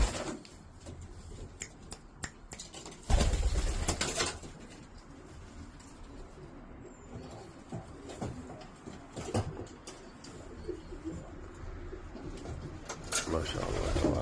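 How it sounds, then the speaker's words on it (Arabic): Iraqi-bred pigeons coo softly and intermittently, with scattered sharp clicks and shuffling over a low, quiet background. "ما شاء الله الحمام بصحة جيدة"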